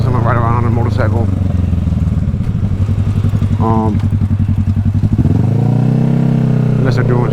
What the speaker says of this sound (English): watching someone ride around on a motorcycle